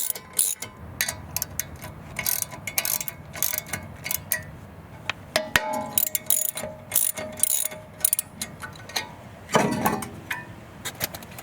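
Bolts being screwed one by one into a car's rear brake rotor to push it off the hub on a 2019–2026 Lexus UX: irregular close ratchet clicks and metallic taps in bursts, with no talking.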